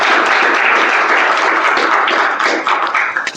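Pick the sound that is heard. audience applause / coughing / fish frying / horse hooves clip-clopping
audience applause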